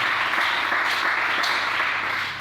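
A church congregation applauds together, a steady wash of clapping from many hands that holds for a couple of seconds without any talk over it.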